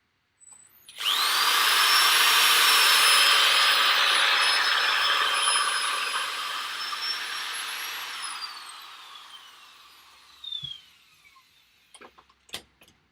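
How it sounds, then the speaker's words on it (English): Power sander working wood with 240 grit paper: a loud whirring motor spins up abruptly, drones steadily for several seconds, then winds down and fades, followed by a few quiet handling knocks. "power sander, and I prefer quicker. Yeah, thanks. I do the 240 grit now"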